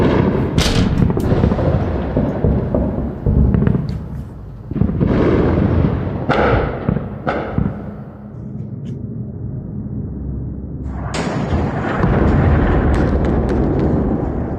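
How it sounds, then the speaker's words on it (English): Bombs exploding on Tehran during an air attack, a series of heavy, booming blasts with long rumbling tails, some close and loud, others more distant, rolling through the city one after another. "Bombs are falling on Tehran."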